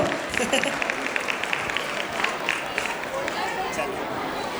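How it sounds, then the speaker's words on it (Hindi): Audience applause at a school annual function, a steady dense wash of many hands clapping at moderate distance with crowd murmur mixed in, continuous throughout. "मेरे लिए भी तालियां बजा सकते हो आप"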